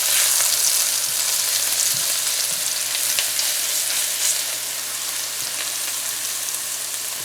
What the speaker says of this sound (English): I'm going to add that in there now, along with our onions.